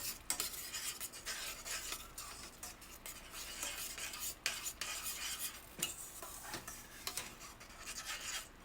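Sofrito with a packet of sazon is stirred in a pot for a crab meat stew, with faint repeated scraping and rubbing strokes of a utensil and a soft sizzle.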